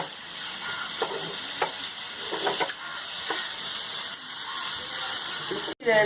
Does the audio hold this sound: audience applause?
no